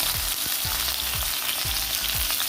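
Curry leaves hit hot oil in a pan for a jackfruit masala curry, giving a steady loud sizzle and crackle with a few soft stirring scrapes and no talking.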